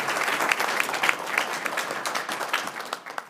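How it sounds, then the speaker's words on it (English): A town council audience applauds youth council members with brisk, full clapping that holds steady for a few seconds, individual claps popping out of the dense wash. "let's give our young youth council members a round of applause"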